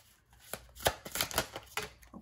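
Tarot cards being shuffled by hand, a close series of soft riffling and slapping bursts in an uneven rhythm, fairly quiet.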